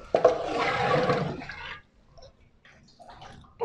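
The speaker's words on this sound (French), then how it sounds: "je prends ma louche, voilà, et là, je vais couler mon jus" Tripe cooking juice pours from a ladle in a thick, close splashing stream for about a second and a half, then fades to quiet with small drips and faint noises.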